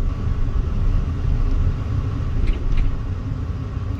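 A Chevy truck's TBI engine runs in gear with an adjusted idle, producing a loud, steady low rumble close by for about four seconds.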